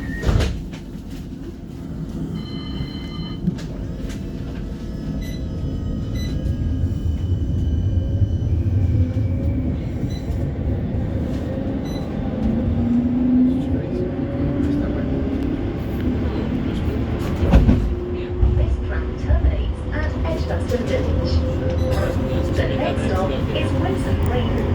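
A West Midlands Metro tram pulls away from the Handsworth Booth Street stop, its motor hum and rolling rumble building steadily with rattles and clunks inside the car. An automated voice announces over the noise.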